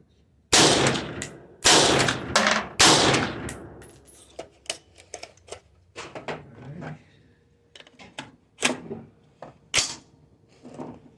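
Rifle gunfire on a 50 yard fire superiority drill with a heating barrel, a string of sharp loud shots, several in quick succession at first, then spaced single reports with clanks and handling noise between them.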